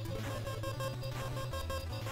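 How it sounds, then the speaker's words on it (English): Rapid, evenly spaced electronic beeps from the Battletoads video game, repeating steadily over a continuous game soundtrack with no talking. "Beep, beep, beep, beep,"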